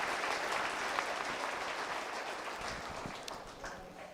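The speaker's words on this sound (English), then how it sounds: "crowd, everybody give them a round of applause." Crowd applause at a 4-H goat show, a steady wash of clapping from many hands held at moderate level throughout, slightly distant, with no talk over it.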